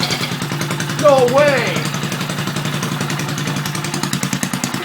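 A small rebuilt Briggs and Stratton 2 HP engine runs on its first start at half throttle and full choke, with a close, steady rapid chugging throughout and a man's brief excited exclamation over it.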